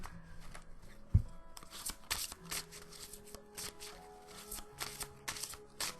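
Tarot-style cards are shuffled and drawn for a card reading, giving close papery riffles, flicks and soft taps in irregular bursts, with a single sharp knock early on.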